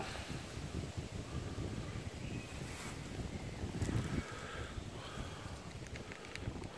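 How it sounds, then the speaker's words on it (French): Wind rising through the trees at a forest bivouac campsite, a steady broadband rush with gusts swelling around the middle, close and continuous with no talk. "On l'entend, le vent se lève."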